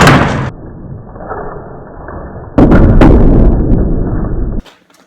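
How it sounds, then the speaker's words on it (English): A shield strikes a person during mock combat: a loud sharp thud and crash, then a quieter stretch, then another heavy impact with a sustained burst of clattering noise before cutting off abruptly. "You fucking beating me up with a shield"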